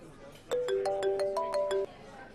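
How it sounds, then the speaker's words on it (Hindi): A mobile phone in a TV drama plays a bright, melodic electronic ringtone, a quick rising run of tones lasting just over a second before cutting off abruptly. "अबीर का फोन है, मैं बात कर लेती हूँ।"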